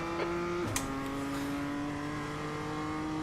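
A BMW M2 race car engine in the iRacing video game drones steadily at high revs, with a brief shift or dip in pitch early on, heard alone without commentary.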